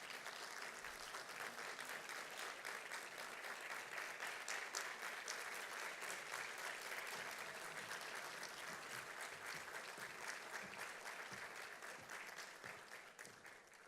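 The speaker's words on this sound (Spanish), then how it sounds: "lo despedimos por su esfuerzo con un fuerte aplauso y nuestra gratitud por haber estado con nosotros" An audience at a report launch event applauds a departing president in a long, sustained round of clapping from many hands, steady and faint, tapering slightly toward the end.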